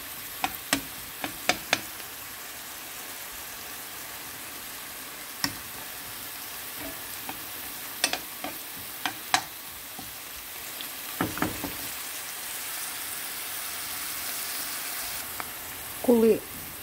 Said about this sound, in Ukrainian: і я смажу на одній сковорідці, викладаю буряк і викладаю все, що залишилось, і моркву